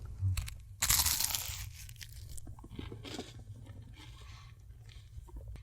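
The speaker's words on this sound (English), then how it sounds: "All right, I'm gonna take a bite." Someone takes a close, loud crunching bite of crunchy food topped with a smidge of Vegemite, then chews with softer crinkly crunches fading over several seconds, with no talking.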